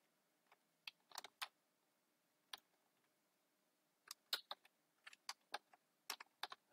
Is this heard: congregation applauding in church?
no